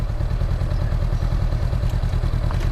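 Honda NX500 motorcycle engine running at a steady, loud and close idle, with a low, even pulsing throb and no voices.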